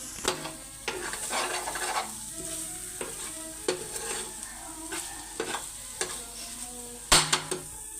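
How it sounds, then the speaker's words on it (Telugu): Potato masala curry stirred in a frying pan, repeated scraping strokes of a spoon against the pan over a continuous sizzle, with a sharp metallic clink near the end, no talking. "ఒకసారి కలిపేసుకుందాం."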